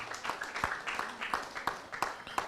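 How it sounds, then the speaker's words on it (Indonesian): An audience at a True Buddha (Zhen Fo Zong) Tantrayana gathering claps in a steady, evenly spaced rhythm, about seven sharp claps in quick succession, moderately loud and unaccompanied by talk. "Beri tepuk tangan kepada Sesiung Sece."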